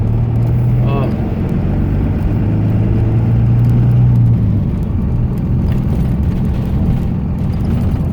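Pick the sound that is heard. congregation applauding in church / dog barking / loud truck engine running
loud truck engine running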